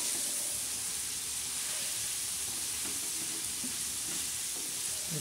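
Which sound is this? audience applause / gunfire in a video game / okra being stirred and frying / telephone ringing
okra being stirred and frying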